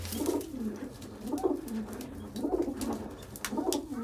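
Pigeons in new rooftop coops coo in soft, repeated rounds, about four low burbling calls spaced roughly a second apart, close by with a quiet background.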